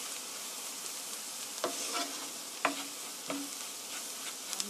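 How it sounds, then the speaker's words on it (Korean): Flour is stir-fried in a pan with a utensil, giving a faint continuous dry sizzle with a few soft scraping strokes and light knocks at irregular intervals, no talking. "이렇게 밀가루가 잘 볶이도록 볶아주세요."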